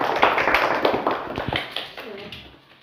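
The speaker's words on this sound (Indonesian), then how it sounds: "Dan sekarang tepuk tangan untuk kelompok 3." Students in a sixth-grade Indonesian-language classroom clap for a presenting group, a short burst of scattered hand claps that fades over a few seconds, with faint voices under it.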